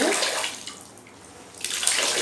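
A wet cloth is wrung out by hand over a bucket, water splashing and pouring in two short bursts with a quieter pause between them, close and fairly loud.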